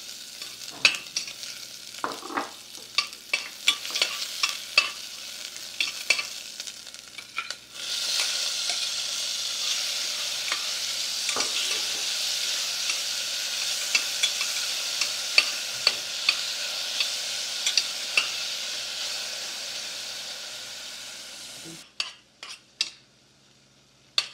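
Shrimp being sautéed in olive oil in a pan for ginisang sinigang na hipon: a broad, steady sizzle with repeated sharp clinks and scrapes of a utensil against the pan, close up, ending in a few separate taps.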